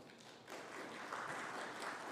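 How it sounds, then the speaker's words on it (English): Faint, distant applause from an audience at an education launch event swells in after a brief pause and continues as a soft, even wash of clapping. "they most definitely deserve a round of applause"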